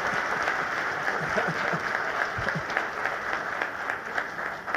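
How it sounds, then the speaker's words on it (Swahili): An audience applauds at a hotel launch event in Tanzania, giving sustained, dense clapping from a crowd throughout, with faint voices mixed in. "let's put our hands together to piga makofi mengi sana"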